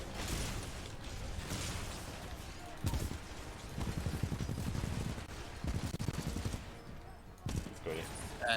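Rapid gunfire from Titanfall 2 gameplay keeps up a dense, steady barrage for the whole stretch, with sharper bursts every few seconds and mechanical clatter mixed in, while people talk over it.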